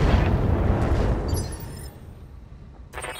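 BattleTech mech weapons firing and exploding: a heavy, rumbling blast dominates the opening and slowly decays, followed by a short crackling burst near the end.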